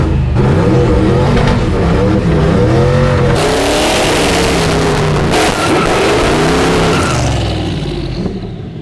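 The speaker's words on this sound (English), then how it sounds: "time to rev it up and dump the clutch" Twin-turbo LS-swapped 1965 Chevrolet C10 stepside patina pickup revving hard and launching, a loud, close, continuous engine roar that rises and surges through the clip before easing slightly at the end.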